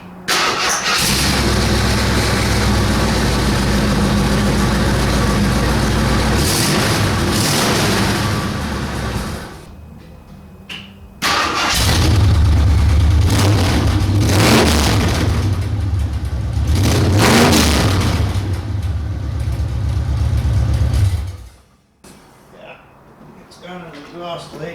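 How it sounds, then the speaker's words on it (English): A 1968 AMC AMX with a 401 engine and new headers and exhaust cranks, fires and idles roughly with revs, cuts out, then restarts and runs loud and close before shutting off, with faint talk after. "Let's just see what it's going to sound like."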